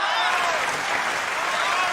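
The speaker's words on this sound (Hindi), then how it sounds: "भाई तालियां कम थी।" Steady, dense applause from a mushaira audience in Dubai fills the hall continuously, a broad wash of many hands clapping at once.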